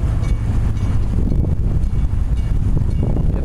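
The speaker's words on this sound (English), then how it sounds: "It's a little windy out here." Wind roars steadily across an open race boat on the water near a drawbridge, a loud, constant low rumble of air battering the microphone with no voices.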